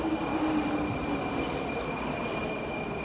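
Prague metro train pulling into a station: a steady rumble of wheels on rails with a high whine from the motor and faint squeal, filling the platform continuously.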